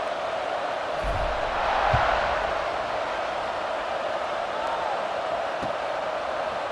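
A large stadium crowd in the College Football 26 video game roars continuously as a dense wash of noise, swelling briefly early on, with no speech audible.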